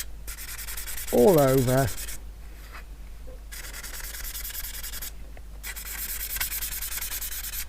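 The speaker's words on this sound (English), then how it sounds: "what I'm going to do is just give it a very light rub in 2 different directions" Fine 800-grit abrasive is rubbed lightly in two directions over the surface of a Flying Scotsman model cab, giving repeated close, dry scratchy strokes with short pauses, and a voice speaks briefly over it.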